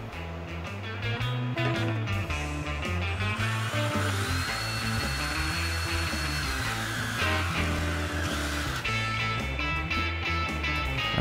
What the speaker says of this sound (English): pre-drilled with a 16th inch drill bit